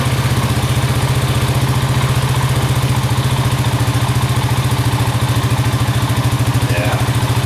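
Honda Rancher 350 ATV engine running in neutral after a rebuild: a loud, steady, close idle with a fast even thumping pulse throughout and no noticeable revving.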